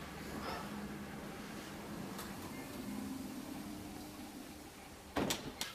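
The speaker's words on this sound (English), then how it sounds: "now I am opening the door" An office door at a secured company building opens after a fingerprint scan: a steady room hum runs throughout, then a short, close clunk of the door mechanism comes near the end.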